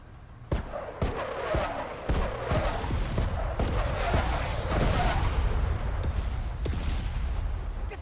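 Rockets slam down in a strategy video game as a rapid series of sharp explosive impacts over a continuous roaring rumble, fairly loud and sustained throughout, with no talking.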